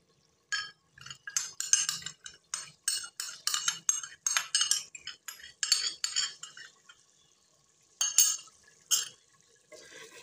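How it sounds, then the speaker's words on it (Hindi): Cream stirred into a boneless chicken achari handi gives a close series of repeated metal spoon scrapes and wet clinks against the pot, rhythmic at first, then pausing before a few final strokes. "तो अब हम डाल देंगे क्रीम।"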